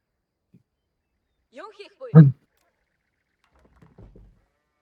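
A sheep in the video game Age of Empires 4 gives a short, clear bleat amid a few faint game sounds, with no other noise around it.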